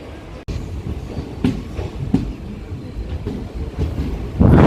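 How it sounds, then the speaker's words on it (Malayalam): The Mangalore–Coimbatore Intercity Express departs Thalassery station, heard from inside a general coach as a rumbling roll with regular wheel clacks over rail joints, a sharp knock near the start and rising noise at the end. "തലശ്ശേരി റെയിൽവേ സ്റ്റേഷനോട് വിട പറഞ്ഞ് നമ്മളെ വണ്ടി പോവുകയാണ്"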